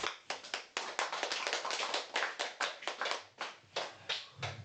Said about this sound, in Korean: 시낭송할 때도 박수를 쳐주시고